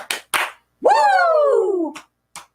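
Two sharp hand claps ring out close together, followed by a long, loud, falling 'woo' whoop imitating a wrestler's trademark yell, then a couple of faint taps.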